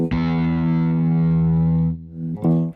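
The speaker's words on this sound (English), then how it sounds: "I always loved like the distortion on those preamps." A single heavily distorted guitar chord through a preamp rings out loud and buzzy, sustains for about two seconds, then a second gritty chord is struck.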